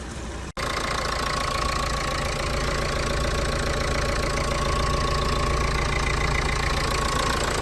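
A used car engine, a Volkswagen Touran or Renault Megane at a used car market, idles steadily and evenly for several seconds after a brief click, a continuous close rumble with no talk over it.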